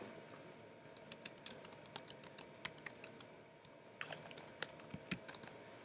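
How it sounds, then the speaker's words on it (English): Quiet typing on a computer keyboard while entering text, a steady run of soft, close key clicks at an uneven rhythm over low room hiss, with no talk. "So I'm going to type in, I want to keep my text."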